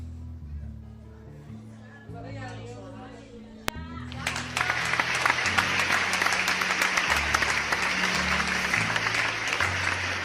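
An audience at a church service breaks into loud, sustained applause that swells in after a few seconds of speech and music, continuing dense and close until the end.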